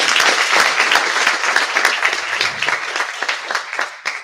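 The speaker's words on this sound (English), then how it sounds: "applause." Applause from an audience at an innovation and entrepreneurship awards ceremony in the Eastern Cape, a dense burst of many hands clapping that stays steady, then thins and tapers toward the end.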